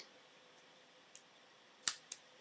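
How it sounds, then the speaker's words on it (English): Scissors cutting paper off a handmade treat box: a faint snip followed by two sharper, close cuts in quick succession over quiet background. "this is too high, so I'm going to cut some of that off"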